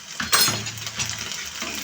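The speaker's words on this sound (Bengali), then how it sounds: "সুন্দর করে একটু নাড়াচাড়া করব।" Spices of salt, turmeric and chili powder are stirred in a frying pan, a soft sizzle running under scraping spoon strokes and a few light metal clinks, close and moderately loud, no talking.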